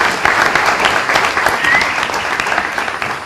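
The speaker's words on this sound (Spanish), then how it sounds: "Vamos a recibirle con un fuerte aplauso a mi esposa." A church congregation bursts into loud, dense applause that fills the room and holds steady throughout without fading.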